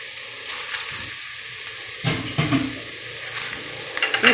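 Tomato puree is stirred into a sizzling, creamy pork loin stew, giving a steady close frying hiss with intermittent spoon scrapes and stirring knocks and no talking.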